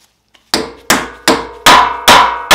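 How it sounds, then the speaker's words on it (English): A hammer pounds a pin through the groove of a trailer axle nut on a Harbor Freight cargo trailer, with five loud, evenly spaced metallic strikes up close after a faint tap. "Pound that through, and then just bend this out."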